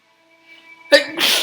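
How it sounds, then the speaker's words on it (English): A single sudden sneeze from a character in the horror game Shiki, loud and close, cutting in after a faint sustained tone, with a breathy burst trailing off at the end. "Oh god, these days I get sneezing way too easily."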